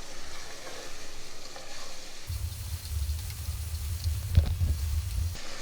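Cumin seeds and garlic fry in hot oil in a pan for bhindi chicken, a continuous close sizzling crackle joined partway through by a low, bubbling rumble with a sharp pop near the end.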